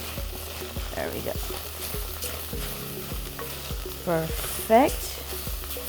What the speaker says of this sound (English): Now it's time to mix our dish.